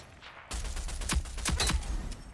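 Gunfire in the online shooter Rogue Company: a burst of sharp shots cracks out over a dense, steady game background, several loud reports spaced unevenly across a couple of seconds.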